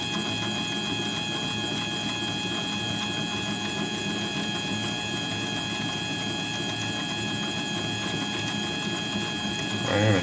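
A metal lathe taking a slow, deep cut that leaves a smooth finish without chatter; a steady, continuous mechanical hum and whine with a constant tonal drone throughout, no talking.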